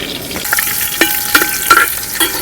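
Garlic, ginger and shallots frying in hot oil in a Kerala-style prawn curry pan, a steady close sizzle with a few sharp scrapes and clinks of a spoon stirring through it.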